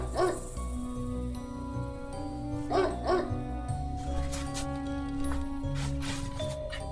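A dog in the Spirit Hunter: NG video game gives a few sharp, loud barks and yips at irregular intervals over a steady low musical drone.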